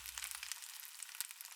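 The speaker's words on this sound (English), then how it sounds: "I drop the meatballs into the hot butter and listen to the sizzle" Meatballs sizzle and fry in hot butter in a pan, a steady close crackling hiss throughout with no voices.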